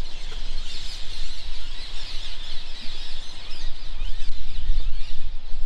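Birds that have taken the place of pigeons calling outside a school, a dense, continuous chorus of chattering calls, fairly loud over steady outdoor background noise.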